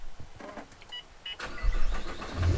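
A few beeps and whirring clicks, then a 2013 Nissan GT-R engine with an aftermarket exhaust cranks and catches, settling into a deep, loud idle rumble.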